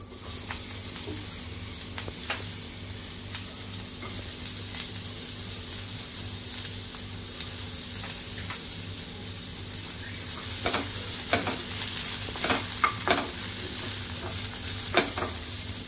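Onion sautéing in a teaspoon of hot oil in a pan: a continuous close sizzle with scattered spatula taps and scrapes that grow louder and more frequent toward the end, with no talking.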